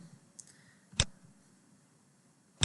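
A computer mouse gives two crisp, isolated clicks about a second and a half apart, close and clear against a quiet background.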